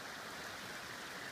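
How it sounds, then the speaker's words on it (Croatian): A stream flows through a Bosnian valley as steady, close rushing and splashing water, with no voices over it. "evo famoznog potoka"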